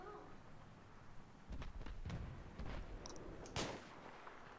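Sniper rifle gunshots ring out in a video game while aiming at an enemy behind a tree: several sharp cracks in the second half, one especially loud, over low background noise; no talking.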